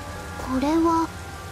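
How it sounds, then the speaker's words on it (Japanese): Steady rain hiss in the video game Persona 5 Strikers, a soft wash of falling drops running throughout, with a short voice-like tone rising over it midway. "急に降り出してきたね。 もしかしてここが 雨降る地のようだな。"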